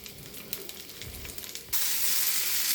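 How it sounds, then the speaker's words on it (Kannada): Fish roasts in oil for a Malenadu-style fish fry, a soft crackling sizzle with a few light taps that suddenly swells into a loud, bright, continuous hiss, close by with no talking. "ನಿಧಾನವಾಗಿ 2 ಸೈಡ್ ರೋಸ್ಟ್ ಮಾಡೋಣ."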